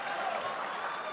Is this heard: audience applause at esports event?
yes